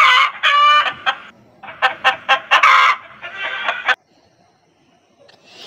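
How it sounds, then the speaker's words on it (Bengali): A rooster clucks in a few quick bursts, then gives a series of loud, close, sharp calls before falling silent, with a faint sound returning at the very end. "মোরগকে ইংরেজিতে বলে রুস্টার।"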